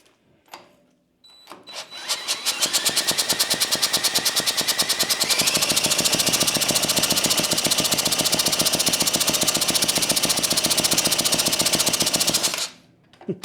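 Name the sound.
antique David Bradley walk-behind tractor engine cranking on brake cleaner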